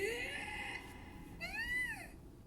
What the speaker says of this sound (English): I want that cat.